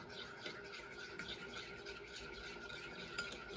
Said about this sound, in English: Take a spoon, stir it up.